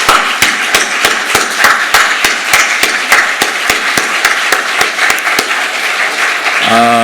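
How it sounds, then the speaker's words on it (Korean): A church congregation at a Korean Sunday worship service claps in steady unison, about twenty sharp, evenly spaced beats, loud and close, to encourage a bereaved family; a brief tonal sound enters at the very end. "우리 격려의 박수 한번 했으면 좋겠습니다"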